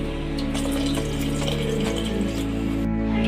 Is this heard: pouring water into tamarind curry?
yes